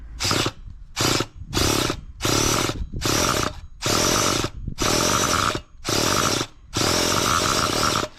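A nitro RC car engine is cranked over and over as it fails to fire, giving about eight loud, close whirring bursts separated by short gaps.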